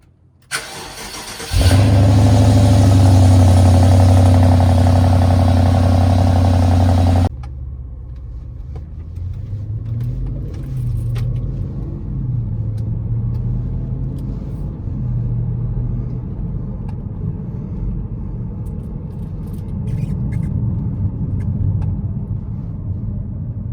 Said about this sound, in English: let me just take you for a ride a little bit, so you can maybe hear a bit of this V8 roar